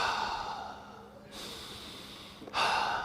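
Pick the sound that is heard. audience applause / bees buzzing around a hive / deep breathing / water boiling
deep breathing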